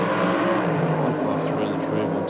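A championship drag racing car's engine roars loud and close as it rolls into the staging beams, a thick sustained rumble with a commentator talking over it.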